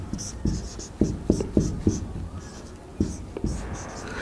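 Chalk or marker strokes on a lecture board come in a series of short, sharp taps and scrapes, irregularly spaced, with faint background hiss and soft voice traces.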